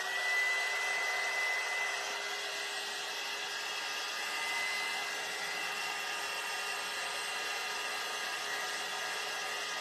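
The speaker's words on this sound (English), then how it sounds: "I'm drying this out a little bit." A hair dryer blows steadily on a damp handmade craft bag, a continuous close airy whir with a faint whine, holding level throughout with no talking.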